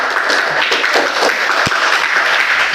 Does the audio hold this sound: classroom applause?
yes